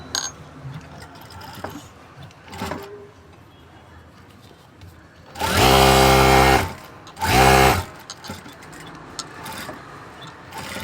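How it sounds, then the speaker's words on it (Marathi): A sewing machine runs two short, loud bursts of stitching, topstitching the edge of a kurti stand collar. Quieter handling noises and faint background sounds come before and after. "त्याच्यावर अजून एक दाब शिलाई टाकून घेऊ"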